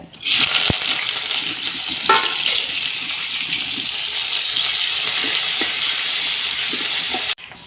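Crushed ginger, garlic, green chilli and curry leaves frying in hot coconut oil, a steady loud sizzle and hiss that holds for several seconds with a few soft stirring touches, then cuts off abruptly.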